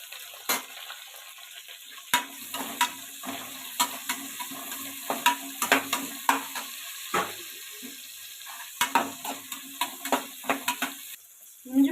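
Onions, star anise and bay leaf fry in hot oil for a vegetable biryani, a steady sizzle broken by frequent sharp scraping stirs of a spoon against the pan, close and fairly loud, with no talking.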